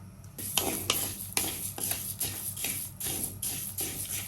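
Dry coriander seeds with a little rock salt rattle and scrape in a hot pan as they are dry-roasted and stirred in rhythmic, repeated sweeps, with a faint sizzling hiss throughout.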